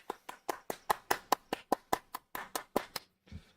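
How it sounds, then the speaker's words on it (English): A small group at a live trading-card break claps in about fifteen distinct, evenly spaced handclaps, near and fairly soft, that stop before a short quiet rustle at the end. "So let's give him the applause that he deserves for taking the time."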